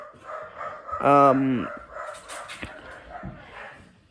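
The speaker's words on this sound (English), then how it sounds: "I'm sorry. I can't control the dogs barking." A dog gives one close, drawn-out whining yelp followed by a few fainter barks, with a person talking around it.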